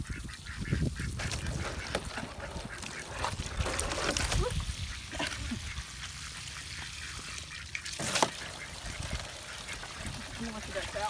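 Pet ducks quack and honk in bursts near a backyard kiddie pool, their calls scattered among faint splashing and background noise.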